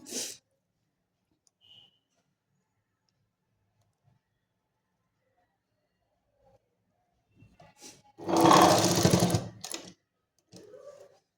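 A sewing machine stitches a kurti collar in one short whirring burst after a long quiet stretch, with a few faint clicks before it and a brief softer run at the end.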